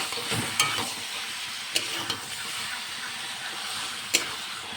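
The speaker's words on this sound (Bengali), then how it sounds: "মাংসটাও ভালো করে কষে নেব।" Meat being sautéed in a pan with oil and spices for a Bengali curry, a steady frying sizzle and hiss with occasional sharp scrapes and clinks of a stirring spoon, close and moderately quiet.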